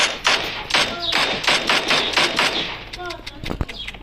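Video game gunfire in rapid bursts, with repeated sharp shots and thumps from an automatic weapon during an online match, loud and close, while several players talk and laugh over it.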